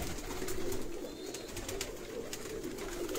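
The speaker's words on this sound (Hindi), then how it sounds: "ये सारे पुराने ओल्ड कबूतर हैं" Old Rampuri and Amritsari pigeons coo softly in a repeated low murmur under a faint ambient hiss, with no talking.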